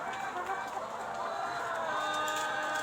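Laying hens cluck steadily on an Indonesian egg poultry farm, a dense, continuous flock chatter with occasional rooster-like calls, fairly near and unbroken throughout.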